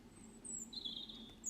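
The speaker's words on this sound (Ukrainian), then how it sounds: "синиця" Tit (titmouse) singing in winter: thin, high, whistled notes repeated over a quiet background, with a steadier drawn-out phrase in the middle, fairly faint and without voices.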